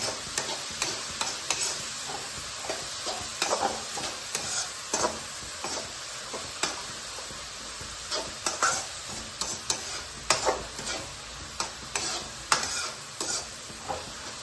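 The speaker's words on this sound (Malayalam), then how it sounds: "ക്യാരറ്റും കൂടി ഇട്ട് കൊടുക്കാം. എല്ലാം നന്നാവണമെന്ന് വഴറ്റി എടുക്കണം." Chopped vegetables with carrot are sautéed in a pan, a low continuous sizzle punctuated by frequent rhythmic scraping and clacking strokes of a spoon, near and unaccompanied by voices.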